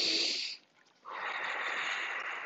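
A person breathes deeply, one long forceful exhale ending after half a second, a brief pause, then a sustained airy breath close to the microphone.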